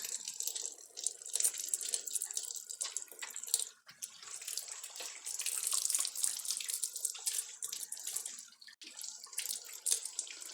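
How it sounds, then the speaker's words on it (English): Running tap water pours steadily into a kitchen sink as hands are washed, with splashing shifts as hands move under the stream, continuous and close for the whole stretch. "You might actually see me or hear me wash my hands like 20 times"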